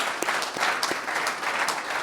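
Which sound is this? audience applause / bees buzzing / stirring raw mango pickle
audience applause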